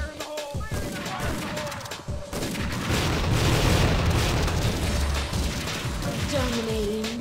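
A grenade detonates in the Tactical Ops video game amid a burst of rapid gunfire, a loud, rumbling boom and crackle filling the scene at mid distance.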